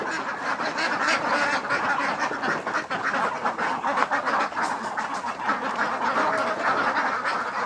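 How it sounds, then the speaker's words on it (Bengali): Khaki Campbell ducks at a duck farm quack continuously in a dense, overlapping chorus, loud and close with no talk. "হাঁসগুলো দেখো একই সারি সারি দিয়ে মানে একটা সারি দিয়ে কিন্তু হাঁসগুলো একসাথে উঠছে"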